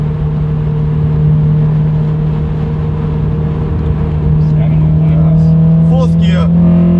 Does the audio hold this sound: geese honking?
no